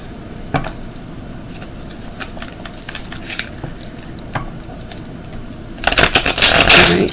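Tarot cards are shuffled by hand, with scattered soft riffles and taps followed by a loud, rapid flurry of card flicks near the end, close and without talking.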